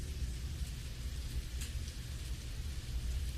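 Steady rain hisses continuously at a baseball game, with a low rumbling background that stays constant throughout.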